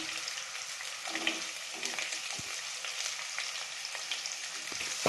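Onions sauté in a small amount of oil in a non-stick pan, giving a steady soft sizzle with occasional light stirring scrapes, moderately close and even throughout.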